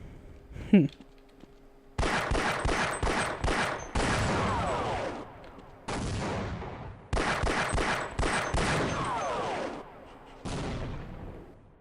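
Gunfire in the Half-Life video game: a sharp burst early on, then long stretches of rapid, loud automatic shooting broken by short pauses, with blasts from exploding barrels and no talk over it.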